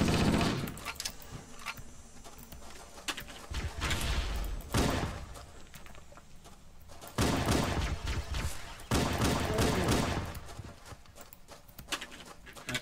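Bursts of rapid gunfire in the video game Halo come in repeated volleys separated by short gaps, loud and sharp, with no one talking.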